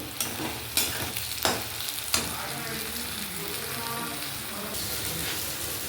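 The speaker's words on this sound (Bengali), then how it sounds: "এবার আদা রসুন বাটা এটা দিয়ে দিলাম এটা দিয়ে ভালো করে কষে নেবো" Ginger-garlic paste fries with onions in a pan for a village-style mutton curry, making a continuous close sizzle broken by a few sharp clanks of stirring at the start.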